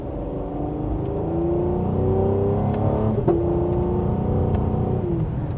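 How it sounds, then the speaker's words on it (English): A 2026 Cadillac CT5-V engine revs up steadily under acceleration from second gear, with a brief sharp exhaust pop partway through, then continues droning. "we got a pop in that exhaust"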